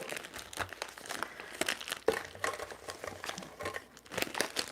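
Wrapping paper crinkles and crumples continuously as presents are opened, with bursts of rustling and short tearing sounds, close and fairly loud, no talking.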